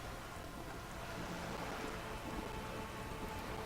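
Steady rain falls in the Disco Elysium video game, a soft, even hiss with a low rumble beneath it, continuous and fairly quiet with no voices.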